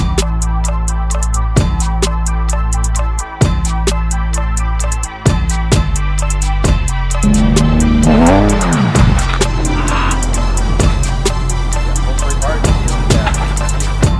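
A Nissan 370Z does a burnout, its engine revving repeatedly in sharp bursts with gaps between throttle stabs, followed by squealing, scrubbing tires as the revs climb, loud and close.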